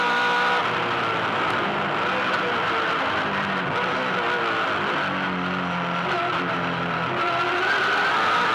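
A 2007 V8 Supercars race car at full throttle on the Gold Coast street circuit, building toward about 260 km/h before turn 1: a loud, continuous onboard engine roar with rising pitch, steady and close throughout.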